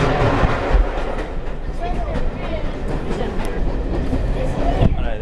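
A steady rumble and rattle of a moving steam train carriage fills the background, with occasional clunks and a voice speaking over it.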